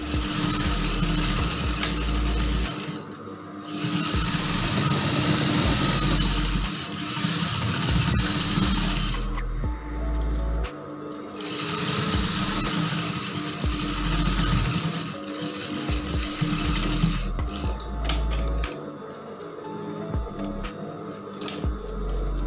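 A sewing machine stitches the side seam of a lace dress combined with plain fabric. It runs close and loud in long whirring, rattling bursts, separated by a few brief pauses, with no talk.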